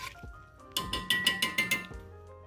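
A spoon stirs in a cooking pot of BBQ baked beans, making a quick run of about half a dozen bright metallic clinks and scrapes against the pot, close and clear.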